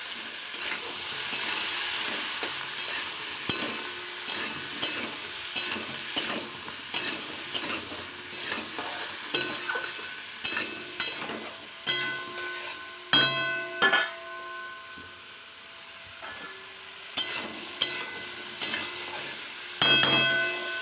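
Pointed gourd frying in a pan with salt and turmeric, a steady close sizzle broken by frequent rhythmic scrapes and clinks of a spatula stirring against the metal, with no talking.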